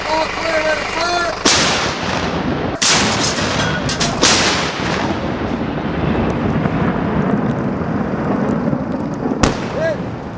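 Avalanche control artillery gun firing to trigger snow slides above a cleared roadway: several loud, sharp booms with long rumbling echoes rolling across the mountains, heard outdoors with no talk over them.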